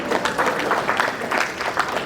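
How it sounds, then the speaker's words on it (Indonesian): A hall audience at the Cilegon Business Forum and Investment Award 2023 bursts into steady, dense applause, many hands clapping at once in a continuous crackling wash that holds evenly from start to finish. "Tepuk tangan."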